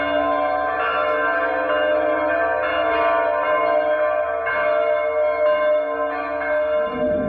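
Monastery bells ring in the distance, heard near a ferry landing, a steady sustained ringing with layered tones and soft repeated strikes over about seven seconds, with no voices.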